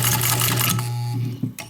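A Pfaff 130 sewing machine motor stitching thick fabric, a loud rapid mechanical whirr that runs steadily and then slows and stops with a couple of clicks.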